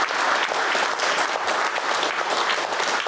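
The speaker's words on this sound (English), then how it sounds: "can we have a round of applause for our panel?" An audience applauds a discussion panel at the close of a Smeaton 300 event, with steady, dense clapping that stays loud and even throughout, with no one talking over it.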